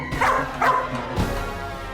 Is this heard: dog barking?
yes